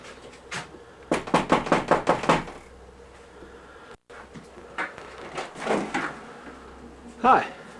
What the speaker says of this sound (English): Give a knock on the door.